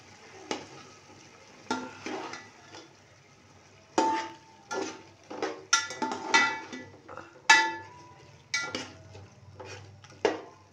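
Ground ginger, garlic and green chilies fry as a masala in a pan, with repeated spoon scrapes and clanks against the pot over a soft sizzle, close and uneven in rhythm.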